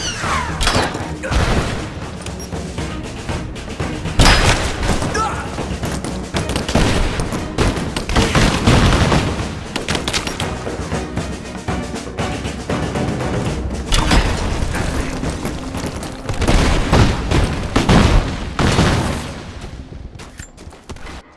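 In Rise of the Tomb Raider, a dense, loud firefight sends continuous gunfire and repeated booming grenade explosions across a battle, with a few shouted voices mixed in.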